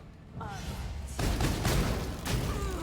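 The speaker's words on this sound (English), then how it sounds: "Ember, go ahead and hit her with fire bolts." Fire bolt spells striking an enemy in Pathfinder: Wrath of the Righteous, heavy thumping impacts with crackling bursts that land in two or three waves over a dense rumbling battle din.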